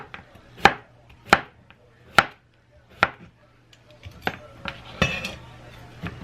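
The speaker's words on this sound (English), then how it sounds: "now I'm just cutting it into little pieces because I'm also going to saute the squash." A knife chops squash into small pieces on a board with about five sharp, spaced thuds, then quicker and lighter cuts follow, close and clear against a faint background hum.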